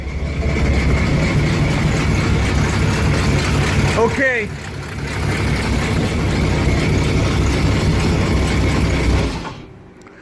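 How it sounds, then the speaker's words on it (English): A 1970 Pontiac LeMans/GTO engine idles with a deep, rumbling note from a new exhaust. A voice speaks briefly, and the engine cuts out abruptly near the end. "That's how the new exhaust sounds, right? Sound pretty good, I think."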